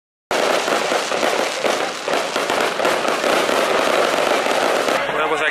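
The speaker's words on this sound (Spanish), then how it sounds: "Han tirado los fuegos artificiales" Fireworks going off on San Juan night in Spain, a dense continuous barrage of loud crackling bangs and pops at close range, filling the whole stretch and ending abruptly.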